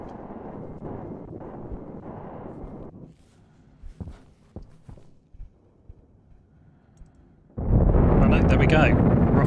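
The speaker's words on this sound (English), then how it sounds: "Rocket is away." A rocket lift-off in the game Stationeers: after a quiet stretch with scattered knocks and footstep-like thumps, a sudden loud, broad roar bursts in near the end and holds steady.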